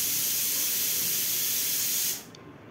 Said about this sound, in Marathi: आता फोडणी तयार झालेली आहे एकदम